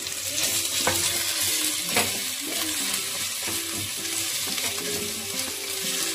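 Spices sizzle and fry with onions in a pan for dal tadka while a utensil stirs and scrapes against it now and then, close and steady.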